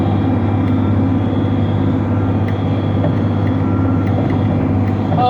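A John Deere 4440 tractor pulls a Vermeer 605K round baler through a hay field, its engine a loud, close, unbroken drone throughout.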